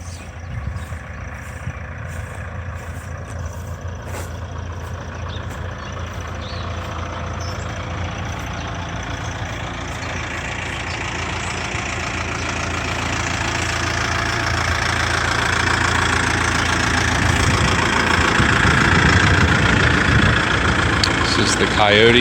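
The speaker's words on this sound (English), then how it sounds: "This is the Kioti RX7320 tractor." Kioti RX7320 tractor with a flail mower, engine idling close by in a steady low rumble that slowly grows a little louder, with a voice talking over it.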